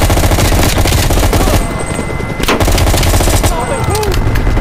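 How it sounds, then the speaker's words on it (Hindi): Rapid automatic gunfire in the Call of Duty Cold War video game, loud bursts of shots and impacts filling the clip with dense, continuous shooting up close. "अरे गोलियां पड़ी, गोलियां पड़ी।"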